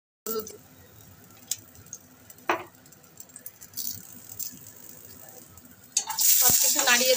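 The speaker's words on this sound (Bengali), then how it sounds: "একটু রাঁধুনি ফোড়ন দিয়ে দিচ্ছি, আর একটুখানি হলুদ।" Radhuni seeds and turmeric sizzling in hot oil, a steady close fry with scattered pops and crackles, rising to a louder hiss and stirring rattle near the end.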